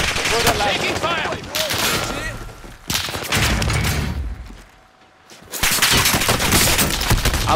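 Automatic gunfire in Call of Duty: Modern Warfare Warzone Resurgence: loud, rapid bursts of shots with a brief voice early on, a short lull around the middle, then heavy firing resuming.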